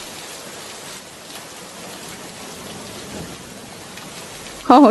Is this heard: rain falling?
yes